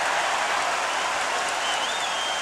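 Home crowd at Miami Arena roars during a free throw in a Bulls versus Heat playoff basketball game, a dense, steady wash of cheering and clapping with no pause.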